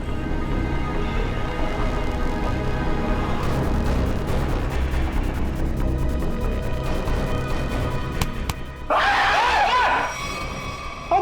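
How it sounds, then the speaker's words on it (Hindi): A man screams during a tense crime-drama scene: dense, loud, chaotic rumbling noise fills the scene, then a sudden strained, high-pitched yell bursts out near the end. "लड़की की तरह चीखता क्यों है?"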